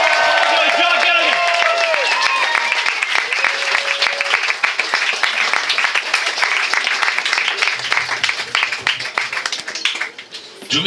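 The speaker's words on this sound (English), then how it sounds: "Start clapping out the back of the room." A comedy club audience claps and cheers loudly and continuously, a dense wash of applause that thins out toward the end.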